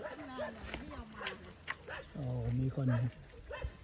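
A dog walking with its owner on a road around the Bang Niao Dam reservoir gives a few short barks and whines nearby, mixed in with a person speaking briefly.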